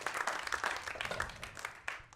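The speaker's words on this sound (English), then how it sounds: "give Marz a round of applause." Audience clapping at a stand-up comedy show in Chicago, a moderate burst of applause that stays steady for a couple of seconds with no talking over it.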